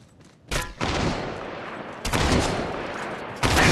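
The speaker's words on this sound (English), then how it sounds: "They're shooting at me." Bursts of gunfire in the Apex Legends Mobile battle royale game, three loud, dense volleys starting abruptly and sustaining with rapid repeated shots, close and dominant with no talk.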